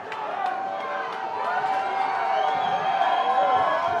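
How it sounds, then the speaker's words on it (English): A crowd cheering and shouting at a Pure FC kickboxing fight, a steady roar of voices with whoops building slightly, heard behind announcer commentary. "The crowd comes alive."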